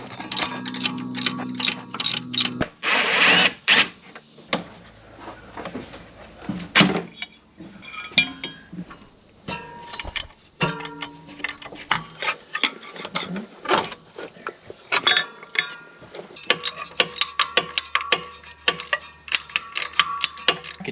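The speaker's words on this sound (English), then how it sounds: "might as well just go ahead and run a cleaner tap through there" A cleaner tap is run through bolt threads on an engine sealing surface of an old GMC motorhome, giving close, irregular metallic ticking and scraping clicks in bursts, with some louder clanks and no talking.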